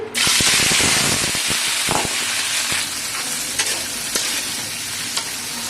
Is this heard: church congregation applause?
no